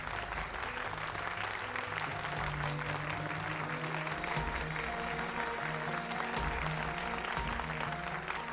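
An audience claps in a continuous dense wash of applause, loud and sustained throughout, with a faint tonal background underneath.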